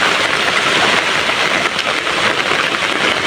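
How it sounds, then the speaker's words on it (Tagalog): Heavy rain pours down in a dense, steady hiss, loud and close, with no voices. "malakas po ang ulan"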